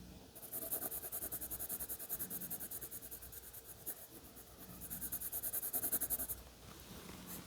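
A pencil colors in a drawing of a potato on paper with steady, rhythmic back-and-forth scratching strokes, close and fairly faint over a low hum, pausing briefly midway before resuming.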